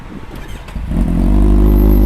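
A motorcycle engine, a Kawasaki Z800 or Ducati 848 Evo, starts with a few sputters, then catches and settles into a loud, steady idle close by.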